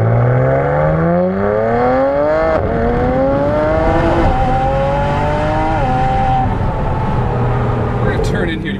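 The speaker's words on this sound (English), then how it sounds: "It feels light. Sounds fantastic." A tuned 600 hp BMW Z4 with an N54 turbo engine and turbo-back exhaust revs up through rising gear pulls, loud and close from inside the car, with clear gear-change breaks, and people talk over it.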